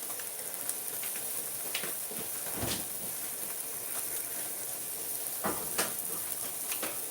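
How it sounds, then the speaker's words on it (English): Food frying in a pan gives a steady sizzling hiss that stays close and constant, with a few brief clatters of stirring or utensil contact breaking through it. "You can really start to hear the sizzle now."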